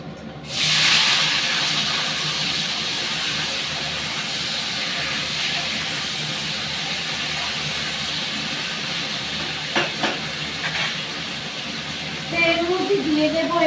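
Potatoes hit hot oil seasoned with panch phoron, setting off a loud, steady sizzling hiss close up that continues throughout, with faint utensil clinks near the end.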